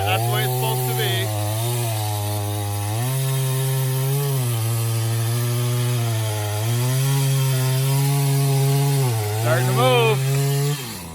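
Craftsman chainsaw felling a silver maple tree, its engine droning loud and close as it cuts, pitch dipping and rising as the chain bites into the wood, with brief speech.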